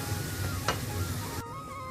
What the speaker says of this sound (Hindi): अपना सब नीक से ई मसाला के भूजि लै छी।